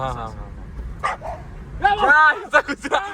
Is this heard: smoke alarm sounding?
no